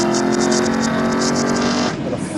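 Race cars roar past on the Road America circuit during a Tire Rack One Lap of America morning session, two cars running extremely close together, a loud, steady engine howl that drops away as they pass.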